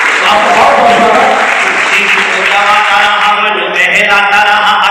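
Audience applause at a stage event, loud and close, with clapping over music or a voice that carries steady tones, the claps thinning out toward the end.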